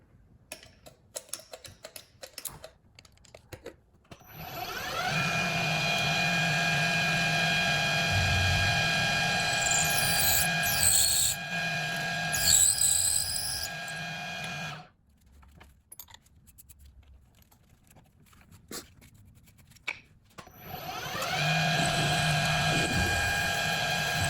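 Power drill boring holes in metal plates for custom flip-over decklid hinges on a Porsche 911R, first with a small bit, then larger; a loud steady whine for several seconds, a pause with clicks and handling, then drilling resumes close up.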